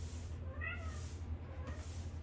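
A cat meows twice, once drawn out near the start and once more briefly later, over a steady low hum with no talking.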